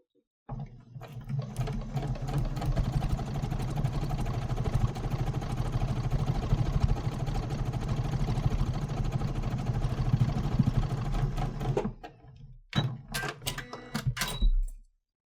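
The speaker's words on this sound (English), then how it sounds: "I'm putting it underneath my sewing machine foot down, needle down, and I'm going to sew using the scant 1/4 inch foot" A sewing machine fitted with a scant quarter-inch foot stitches a quilt seam in one steady, close-up run of even mechanical whirring lasting several seconds, then stops, followed by a few light clicks and handling sounds.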